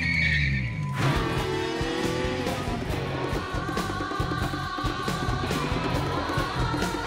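A car with a guttural engine and a 6000 rpm redline pulls away after a short lead-in, its engine note building steadily and staying loud and continuous throughout, with no talking over it.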